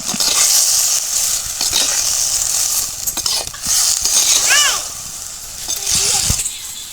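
Tomatoes for a village-style fish curry sautéing in a pan, a steady broadband sizzle with intermittent stirring scrapes and faint clinks, fairly close and continuous.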